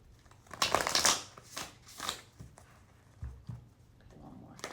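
A deck of playing cards is riffled and shuffled close by in several quick papery bursts with pauses between them, faint and intimate, with no talking.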